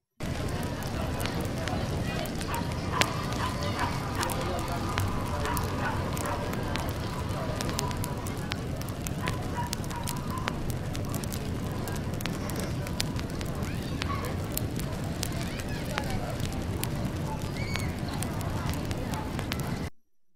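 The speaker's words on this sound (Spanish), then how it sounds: "hemos añadido el crepitar de la llama para darle más sentido de realidad" Crackling flame layered over a steady background ambience in a Reaper mix, a continuous dense bed of small pops and snaps running throughout at an even level.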